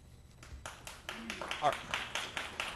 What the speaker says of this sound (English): Please refrain from applause.